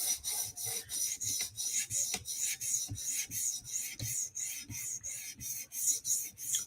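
An S30V steel tanto knife blade drawn in forward and backward strokes across a 400 grit sharpening stone, producing a steady series of close, rasping scrapes in an even back-and-forth rhythm with no talking.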